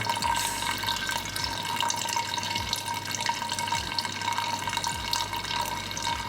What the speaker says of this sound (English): Slow, pour slow to see if we can get some of the sediment out.